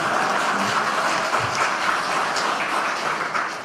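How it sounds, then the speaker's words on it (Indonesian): Applause from women in the audience at the PDI Perjuangan party's second national working meeting (Rakernas II), sustained, dense and evenly loud for the whole stretch, with no talk over it. "Ayo yang perempuan, tepuk tangan meriah."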